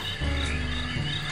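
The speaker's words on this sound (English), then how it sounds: "Those are some very loud crickets." Loud crickets chirp continuously in the Psychonauts video game, a dense, steady insect trill filling the scene without speech.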